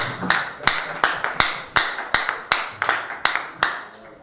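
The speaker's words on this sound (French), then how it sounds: "Est-ce qu'on peut acclamer pour la parole de Dieu? Acclame bien pour la parole de Dieu." A church congregation claps in a steady rhythm of sharp, evenly spaced hand claps, roughly one every third of a second, fairly loud and close throughout.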